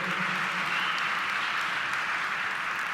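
A theatre company's awards gala audience breaks into steady, dense applause, a continuous even wash of many hands clapping with no voices over it.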